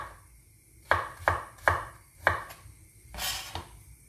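A knife chops through turnip on a cutting board, four crisp, evenly spaced thuds followed by a couple of softer, scraping cuts, close and clear with no talking.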